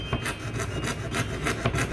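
A hand saw cuts a capsule-shaped outline outside the marked line for a cast Buddha amulet frame, giving a steady, close rasping rhythm of repeated strokes with no voices.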